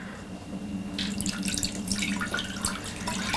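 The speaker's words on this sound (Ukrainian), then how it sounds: "потім заливаємо його водою" Water poured over agar for buckwheat candies, a steady splashing pour into a container lasting a few seconds, close and alone without talk.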